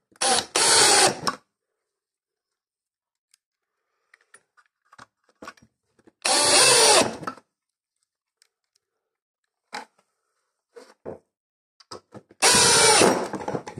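A power drill drives screws into pallet wood, three loud whirring bursts of about a second each, close up and spaced several seconds apart, with faint knocks and handling noises in the gaps.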